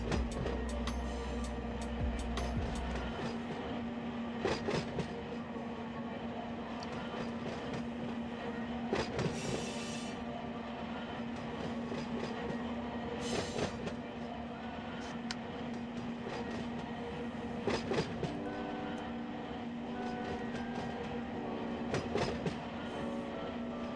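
A freight train rolls through a classification yard at night in the train simulator game Run8, with a steady low rumble, rhythmic wheel clicks and occasional metallic clanks and squeals sustained throughout.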